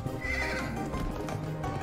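A horse in the video game Pumpkin Jack, heard as a loud close whinny and hoof clatter over a busy game soundtrack, lasting about two seconds.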